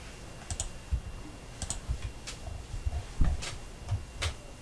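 Computer keyboard keys pressed while working in Mastercam 2021 CAM software: sparse, light clicks in small clusters, fairly faint against a quiet room hiss, with no talking.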